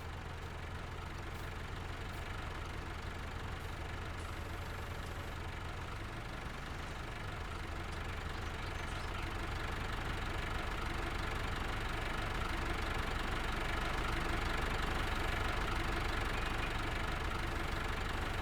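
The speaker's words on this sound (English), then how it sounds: "Get the engine nice and warm." A farm vehicle engine idles steadily in the Farming Simulator game, a continuous low mechanical drone with a faint knocking texture that grows slightly louder toward the end, with no talk.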